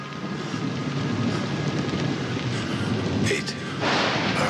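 Rain with thunder under a synthwave track, a dense steady downpour with a low rumbling roll and a brighter surge of hiss near the end.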